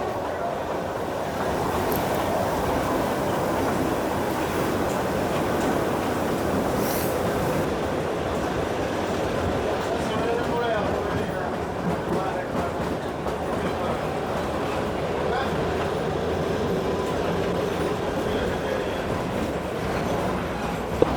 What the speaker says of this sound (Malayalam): പക്ഷേ ഈ റെയിൽ ഗതാഗതം അപ്പോഴും മുടക്കം കൂടാതെ നടന്നുകൊണ്ടിരിക്കുന്നു